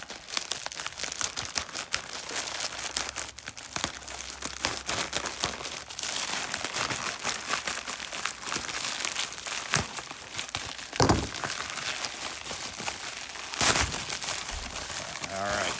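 Padded UPS mailer envelope being handled and torn open, with continuous close crinkling and crumpling of the plastic and two sharper tearing bursts partway through.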